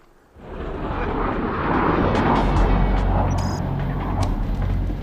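A private jet roars loudly overhead, rising quickly from quiet into a steady, broad engine rumble that holds for several seconds.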